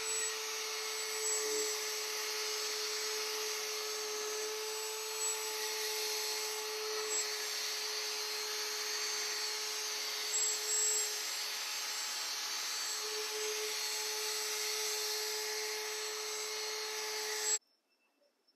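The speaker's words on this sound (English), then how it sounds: "then we'll grab our drill brush" A drill brush spinning steadily as it scrubs shampoo into a cloth car seat, a continuous whirring motor hum with faint rubbing, close and even for the whole stretch before cutting off abruptly.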